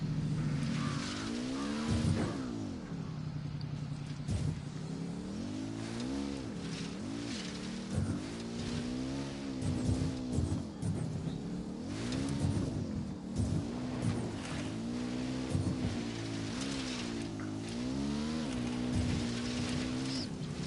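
A car in a video game drives along with a steady engine drone whose pitch climbs and falls through repeated gear shifts, loud and close for the whole stretch with no talking.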